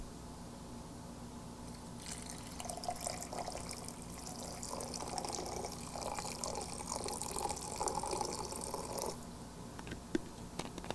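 Water pours steadily into a glass for about seven seconds, a broad splashing rush rising out of a quiet indoor background, close and fairly loud, with no talk over it.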